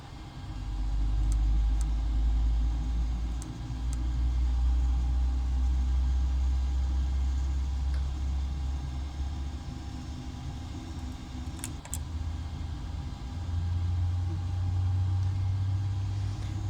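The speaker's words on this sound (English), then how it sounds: "let's start engine number 2" Engine number 2 of a Boeing 737NG spools up during start in a flight simulator game, a steady deep rumble that holds loud and low throughout and shifts pitch toward the end, with no talking.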